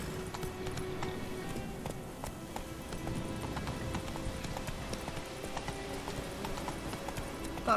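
Rapid hoofbeats of a horse galloping in The Witcher 3 video game, a steady drumming clip-clop that continues throughout at moderate loudness.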